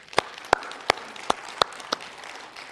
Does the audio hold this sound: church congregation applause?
yes